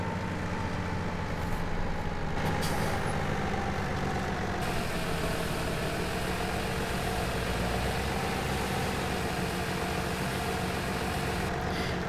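Steady engine drone of a tractor hauling a big, heavily loaded trailer in Farming Simulator 17, a continuous low rumble that holds at an even level throughout with no voices.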